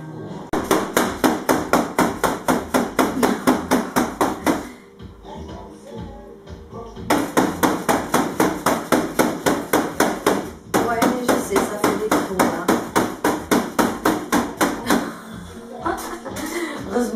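Sharp hammer blows strike in rapid, steady runs, loud and close, with brief pauses between bursts.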